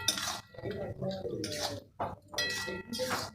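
Soybean mince with garam masala powder stirred in a pan, several short bursts of spoon scraping and clinking against metal separated by brief pauses, close by.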